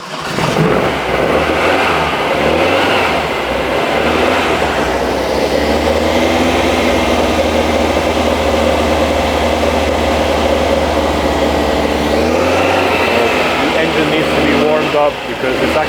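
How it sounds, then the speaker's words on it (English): An air-cooled Volkswagen flat-four engine warms up, a steady loud idle drone with a slight rise in revs toward the end, close and continuous, with people talking over it. "you're gonna enjoy some Flat 4 sound in the meantime"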